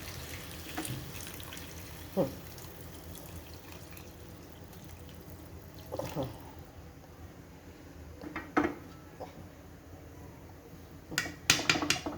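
Soft solar-heated hot water trickles steadily from a tap in the background, with occasional clinks and knocks of dishes, fairly quiet.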